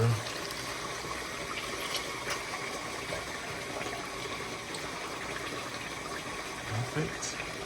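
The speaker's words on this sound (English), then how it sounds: "now I'm just adding the water" Water poured into a bowl of onions while cooking Nigerian jollof rice, a steady gushing, filling sound running continuously at low to moderate level.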